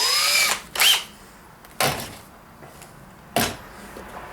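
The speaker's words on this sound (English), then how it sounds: "drill a hole" Three short bursts of an electric drill whirring close by while drilling a hole in a woodworking shooting board, each lasting a fraction of a second, separated by quiet pauses.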